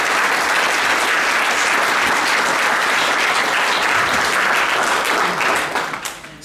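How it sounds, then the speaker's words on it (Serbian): A concert audience at a Christmas and New Year wind orchestra performance claps in long, sustained applause that holds steady, then fades toward the end. "Dajmo jedan lijepi aplauz za sve ovo"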